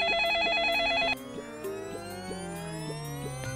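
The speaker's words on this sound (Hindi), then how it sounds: "फोन, पकड़ इसको। तू कह रहा है इसलिए मिला रहा हूँ, बज रहा है" Telephone ring tone with a bright repeating electronic pattern for about a second, then a steady descending melodic ringing that continues alone.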